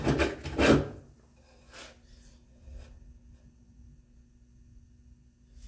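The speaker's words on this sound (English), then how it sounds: "So I'm going to take a few shavings there." A hand plane takes a few shavings off a wooden spice-rack shelf, giving two or three close rasping strokes up front and then fainter scrapes.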